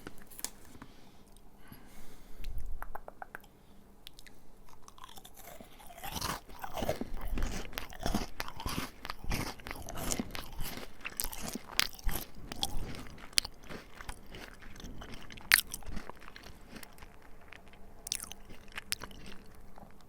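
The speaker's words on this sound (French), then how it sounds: "Maintenant, on va goûter les herbes provençales." Dried Provençal herbs being eaten close to the mic in an ASMR tasting: dense, irregular crunching and chewing mouth sounds, soft but intimate, continuing throughout with no talking.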